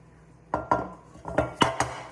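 Corned beef being shifted into a baking pot, giving several clanks and scrapes of metal cookware and utensils, five or six distinct knocks spaced irregularly, close and moderately loud.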